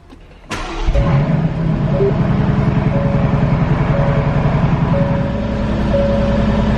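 A 2018 Aston Martin Vantage supercar fires up with a sharp starter bark, then settles into a loud, steady, throbbing idle with slight rises in revs, heard up close with no talking.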